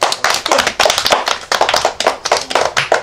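A small family group claps rapidly and loudly for a girl's ninth birthday, a close, continuous patter of hand claps with slight rhythmic swells.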